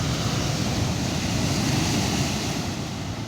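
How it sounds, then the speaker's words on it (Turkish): Sea waves break on the shore in a continuous broad wash of surf, steady and fairly loud, with some wind noise mixed in and no voices. "Bu videoda dalga sesi olacak. Çok fazla dalga sesi geliyor olması lazım."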